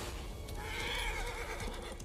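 A horse neighs in the video game Darksiders 3, one drawn-out whinny heard fairly faintly over a low game soundscape with a trace of hoof clopping.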